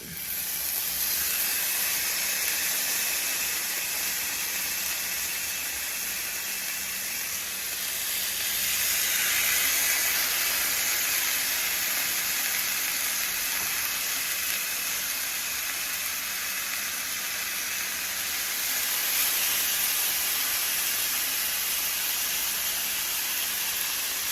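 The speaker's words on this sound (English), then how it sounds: "I'm gonna start putting the salmon into the pan" Salmon searing in a hot pan on the stove, a steady, loud sizzling hiss that swells slightly twice and holds without pause, close up and with no talking.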